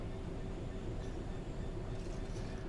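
Train running in Train Sim World 3, a steady low rumble with a sustained mechanical hum and hiss throughout, continuous and even with no talking.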